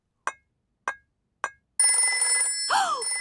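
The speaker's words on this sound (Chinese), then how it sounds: "有紧急电话打来了。" A cartoon telephone gives three short separate bell-like rings, then a continuous sustained ring tone follows with a brief sliding tone near the end.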